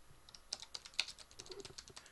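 Rapid, light keystrokes on a computer keyboard tap out a quick irregular burst, close and quiet, with no speech.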